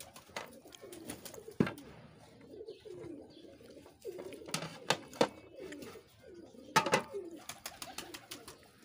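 Blue Neela Kamagar pigeons, including a female, coo softly and repeatedly at close range, with scattered wing flutters and sharp clicks among them.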